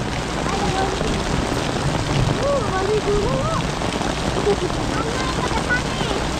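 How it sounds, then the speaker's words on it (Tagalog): Steady rain patters down in a continuous hiss, while voices talk faintly in the background. "Hintayin lang natin tumila yung ulan."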